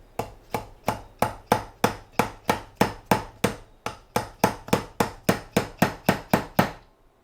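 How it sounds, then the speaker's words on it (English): A small hammer taps a pin into an AR-15 lower receiver, about twenty sharp, evenly spaced metallic strikes close up with a brief pause midway, ringing slightly after each blow. "Take your little hammer."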